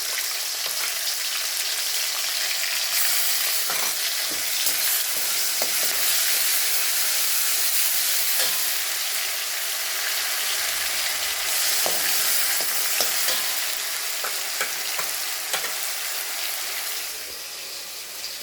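Ginger and spices fry in a hot pan with a steady, close sizzle that runs throughout, broken by scattered scrapes and taps as they are stirred.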